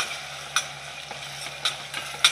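Onion and coconut masala paste sizzles softly in a pan for vajri masala, with a few sharp stirring scrapes over a low steady fry.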